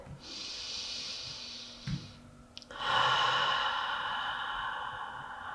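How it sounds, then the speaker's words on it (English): Two slow, audible breaths in during a yoga flow, close and airy: a hissing inhale lasting a couple of seconds, a brief pause, then a longer, fuller breath. "Take a breath in your right side."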